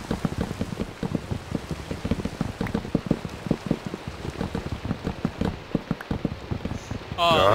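Rain patters in Minecraft Skyblock as a dense, steady stream of small drop taps, close and even, with a brief burst of other game noise at the very end.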